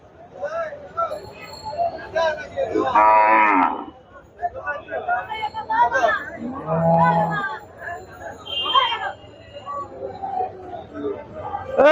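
Cattle moo repeatedly amid a busy crowd at a large cattle market in Barishal, with people talking and chattering throughout at close range.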